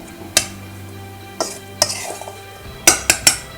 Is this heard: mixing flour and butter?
yes